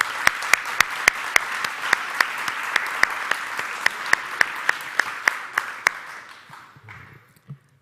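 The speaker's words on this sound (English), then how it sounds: "Let's give them a round of applause." An audience at an economic development announcement held in a fire department venue claps for a few seconds, a dense steady wash of applause with sharp individual claps standing out, close and loud, then thinning and trailing off to a last few claps.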